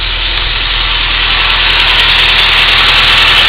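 A loud, steady engine rumble with a low, even throb settles at idle, continuous and close throughout, with no voices.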